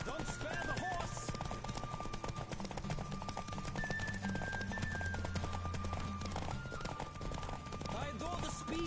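Close, driving gallop of a racehorse in The Witcher 3, dense rhythmic hoof strikes running throughout beneath music and a spoken line.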